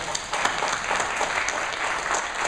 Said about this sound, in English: with Deborah Regal and Debbie Polikoff, who I'd like to give a round of applause to as well.